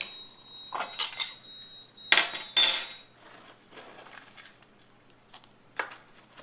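Homemade cereal is tipped into a bowl in two or three short, rattling bursts of pieces clinking against the dish, close and fairly quiet, with no talk.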